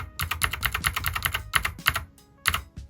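Rapid clattering keystrokes on a Bluetooth mechanical keyboard, a close, crisp run of typing in quick bursts with short pauses between them, with no voice over it.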